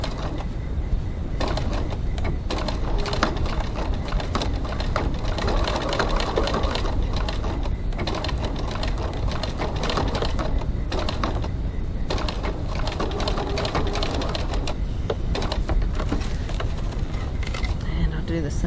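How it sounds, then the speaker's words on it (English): A sewing machine stitches a crossbody bag strap at a 3.3 stitch length, giving a steady, close, rapid mechanical whirring that runs unbroken throughout. "I'm stitching with a stitch length of"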